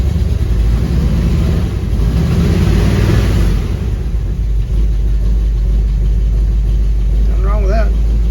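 A 1979 Suburban with a temporary drivetrain and a cheap carburetor idles steadily, a loud, close, continuous low rumble with a faint short whine near the end.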